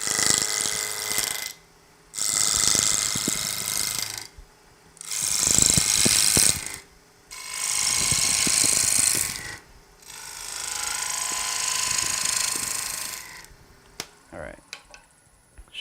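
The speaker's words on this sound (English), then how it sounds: "So now I'll take small cuts and try to go slowly through the exit so I don't blow out the back of it" Slow, small cuts on a wood lathe as the tool works through the exit of a turned piece: five sustained scraping, hissing passes a couple of seconds each, separated by brief gaps, close and fairly loud.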